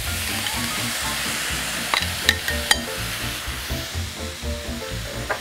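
Beef frying in a pan with sautéed onions gives a dense, continuous close sizzle, broken by a few sharp metallic clinks of utensils against the pan.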